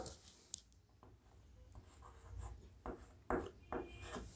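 Faint scratchy strokes of writing on a board during a chemistry lecture on alkenes, coming in short irregular bursts with quiet gaps between them.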